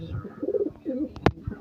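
Pigeons in a breeder cage coo softly in low, rolling calls nearby, with a few sharp clicks and knocks from the cage.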